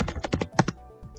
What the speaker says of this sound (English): just come to the search bar and type migration